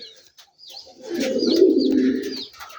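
A pair of Rajshahi giribaz tumbler pigeons coos close by, one long, rolling, throaty coo swelling and fading, with faint chirps around it and no talking.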